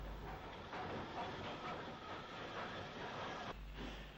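A Great Northern 0-6-0 steam locomotive shunts goods wagons at Derry, a steady rumbling hiss with rolling wagon noise, fairly distant and uniform, with no voices.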